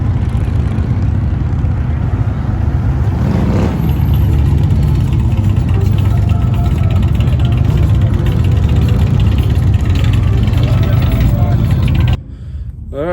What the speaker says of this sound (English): I don't know if you can hear the hundreds of bikes like that.